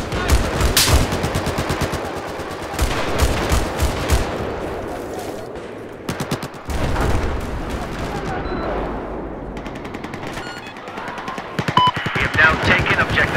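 Rapid automatic machine gun fire in a Battlefield 4 conquest match, with loud, dense bursts and single shots crackling throughout, mixed with other battle noise and voices talking over it.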